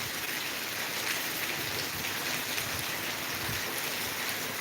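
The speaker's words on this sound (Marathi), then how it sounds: "पहा पाऊस बंद व्हायचं काही नावच घेत नाही" Heavy rain pours down in a dense, steady hiss, with drops pattering on surfaces close by and no voices.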